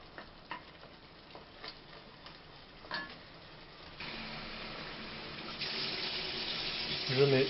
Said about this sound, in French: Je mets de l'eau chaude.